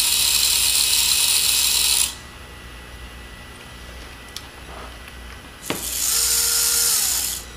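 A motor driving the gears of an NR console PID controller whirs in two loud, steady bursts at the start and end, separated by a quieter stretch with a single sharp mechanical click.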